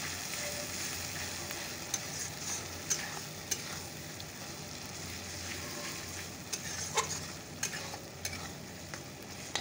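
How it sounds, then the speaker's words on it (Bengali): Turmeric and spices are stir-fried in a pan with a soft continuous sizzle, punctuated by scattered spatula taps and scrapes against the pan. "চলো এবার ভালো করে মশলাটাকে কষিয়ে নিই।"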